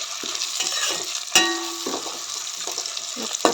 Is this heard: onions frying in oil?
yes